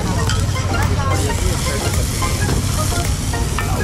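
Kaladi kulcha cooking three at a time on a busy night street food griddle in Jammu, a loud, dense sizzle with clatter and stirring noises, constant throughout with a bustling background.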